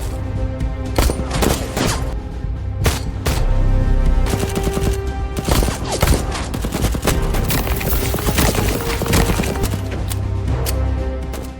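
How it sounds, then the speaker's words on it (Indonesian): Rapid bursts of gunfire crack repeatedly, some in quick volleys and others as single loud shots, with a busy background throughout. "kantor itu pun harus hancur dikarenakan beberapa tembakan"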